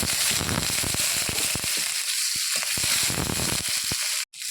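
Green chillies and whole garlic sizzle in hot frying oil with a steady, dense crackle and scattered pops throughout, before a brief drop near the end.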